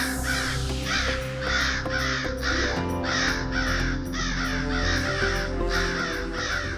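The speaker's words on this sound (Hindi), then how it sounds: "काक तो आ गए" Several crows cawing repeatedly in a steady, evenly spaced series of harsh calls, fairly close, over sustained background music.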